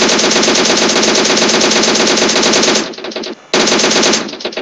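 Loud, continuous automatic gunfire in the battle royale game PUBG Mobile: a fast, dense stream of close shots that breaks off briefly near the end and then resumes for a short burst.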